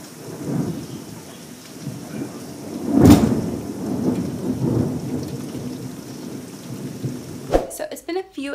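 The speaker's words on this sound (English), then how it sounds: "The rain has officially begun. It is pouring cats and dogs outside" Heavy rain pours steadily outside during a thunderstorm, with a loud, close thunder crack about three seconds in and rumbling that rolls on beneath the constant downpour. A few sharp knocks near the end.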